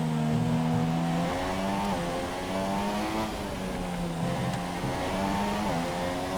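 A Formula 1 car in the F1 2017 racing game, running at the Australia race and down on power, drones steadily with a high engine note that shifts in pitch through gear changes and throttle lifts.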